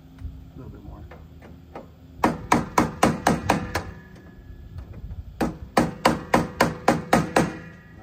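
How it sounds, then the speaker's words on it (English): A hammer taps a lock nut tight during a whole-house surge protector install, in two quick bursts of about eight and ten sharp, evenly spaced metallic strikes, close and loud, with low background noise between. "You could also take your hammer or just ease it in"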